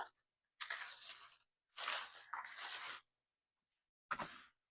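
Pizza dough, gluten-free, pulled from its plastic packaging: three bursts of crinkling and tearing, close and fairly loud, separated by short silences, with no voices.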